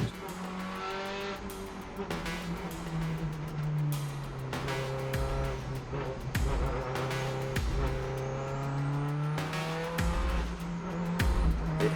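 The Pleasure EVO race car launches on the Mt Washington hill climb, its engine roaring and revving through rising gear pulls, with tire squeal and sharp crackles from close by.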